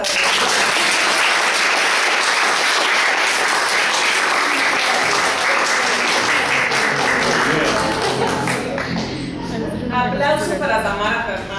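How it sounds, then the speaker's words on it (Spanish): Sustained audience applause at a research presentation on therapeutic corridors, dense clapping that thins after about eight seconds as voices begin speaking over the last scattered claps. "Aplausos para ti."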